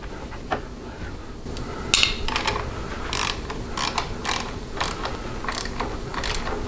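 A hand ratchet tightens an acorn nut on a hand guard bracket of a Harley-Davidson Low Rider Street Bob. Quick, light, close clicking strokes come in irregular runs over a steady low background rumble.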